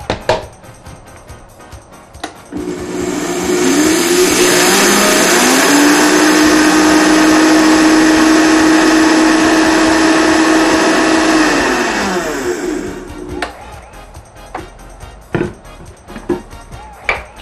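A Vitamix blender grinds dry, unsoaked flaxseed into flour: a loud, steady motor roar with a whirring whine that ramps up, holds for about ten seconds, then winds down, with quieter handling clatter before and after.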